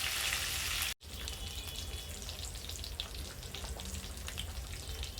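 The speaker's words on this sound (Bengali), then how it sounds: "একইভাবে অন্য সাইডটাও ফ্রাই করে ফিরে আসছে।" Shol fish frying in a pan gives a steady, loud sizzle and crackle, a brief cut near the start, then continuous close frying hiss with scattered pops.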